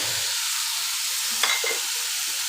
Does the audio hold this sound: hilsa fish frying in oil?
yes